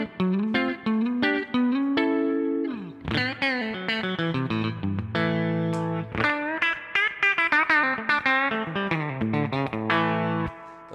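Clean electric guitar through a Milkman The Amp 100 with reverb, single notes and chords ringing out with a lingering wash, played alone.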